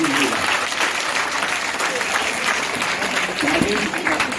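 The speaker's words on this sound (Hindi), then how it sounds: "आप तालियों से उनका सम्मान कीजिएगा" At a Teachers Day celebration at a school, an audience claps in a loud, continuous wash, with voices talking over the applause throughout.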